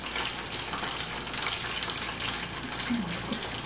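French fries frying in hot oil during lunch cooking, a close, steady, dense sizzle that holds at an even level throughout with no talking.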